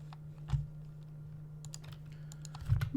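Keys on a computer keyboard are tapped in a quiet room during game development, a few faint, scattered clicks over a low steady hum.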